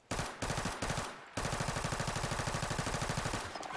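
An unsuppressed Glock P80 pistol on full-auto fire in Fallout 4 rattles off loud, rapid bursts: two short volleys, then one long sustained stream of shots.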